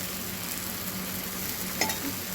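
Poha flour thalipeeth flatbread sizzling in oil in a pan just after being flipped, a steady close hiss with a brief sharper crackle near the end.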